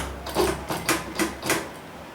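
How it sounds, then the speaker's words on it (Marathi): A sewing machine stitching a rectangular seam on a blouse, running in four short, evenly spaced mechanical bursts with brief pauses between them, close and fairly loud. "आपण येथे आयताकार म्हणजे चौकोन शिलाई घेणार आहे"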